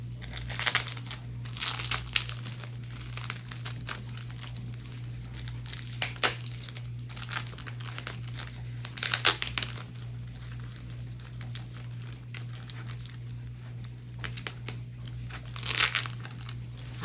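Soft crinkling and crumpling of plant packaging with occasional sharp tape-peeling rips, close and fairly quiet over a steady low electrical hum, while a Hoya Globulosa is unwrapped.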